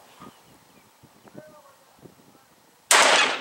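A single loud gunshot from a Tikka T3 .223 rifle fired with its stock folded, sharp and close, ringing out after a few seconds of faint shuffling and low murmuring.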